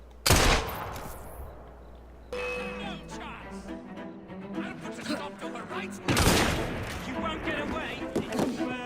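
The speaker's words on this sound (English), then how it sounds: "What happens if I just shoot my gun?" Sharp gunfire bursts from a pistol fired in Assassin's Creed Syndicate, with a loud crack near the start and another volley later, surrounded by game ambience and music.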